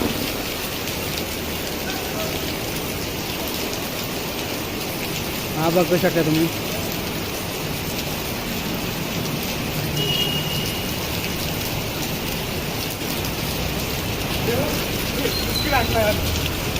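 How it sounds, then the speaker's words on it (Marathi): Heavy rain falling steadily around a floating temple, a continuous dense hiss throughout with a voice speaking briefly over it. "पाऊस खूप पडतो"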